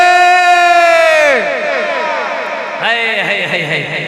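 A crowd at an Islamic religious sermon shouts a slogan in unison, loud and close, with a second shorter shout following a brief pause.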